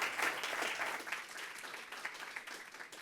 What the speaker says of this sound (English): Huge round of applause for Daniel.